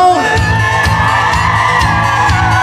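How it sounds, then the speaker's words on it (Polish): Men at a Polish wedding party shout together during a dance game, a loud, sustained group yell with whoops over steady background music. "I wszyscy panowie krzyczą."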